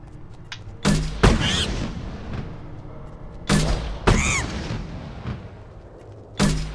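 Sharp, loud gunshots from a cumbersome shooting minigame in Mass Effect 2, coming in irregular pairs of heavy cracks with short echoing tails between quieter stretches.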